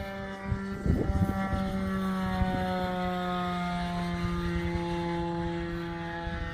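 A radio-controlled Hawker Sea Fury 60-size model airplane flies slowly past, its steady engine and propeller drone holding a sustained tone throughout, moderately near, with a few brief knocks early on.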